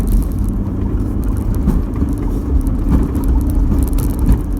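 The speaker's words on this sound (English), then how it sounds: "Wheel spin." 4WD vehicle climbing a sand dune with wheel spin, heard as a loud, rough, continuous engine roar and whir mixed with churning noise, steady with no speech.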